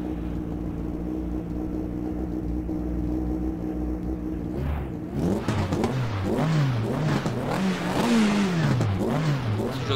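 Racing car engine in the GTR Evolution video game, idling steadily at first, then revving hard and rising and falling in pitch through repeated accelerations, loud and continuous with no one talking.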